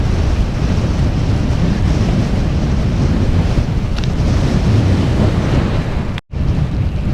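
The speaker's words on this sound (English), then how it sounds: "When I got out in the open, wind gusts were really determined." Strong wind gusts roar continuously across a microphone while cycling on an open road in Kingwood, a dense blustery rush that holds steady and cuts out briefly near the end.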